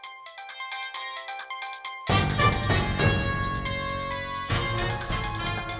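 A mobile phone ringtone for an incoming call plays loud and close as a bright repeating electronic melody, swelling into a fuller, denser tune partway through, with no talk.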